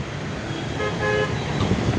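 Busy Bangalore road traffic with vehicles heading out of the city, a steady roadway rumble broken by a short, moderately loud car horn toot from a nearby vehicle.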